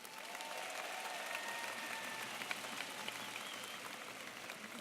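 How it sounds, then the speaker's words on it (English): An audience at a school convocation ceremony applauds in a sustained, even wash of clapping, heard at a distance and fairly faint. "one more round of applause for SSE"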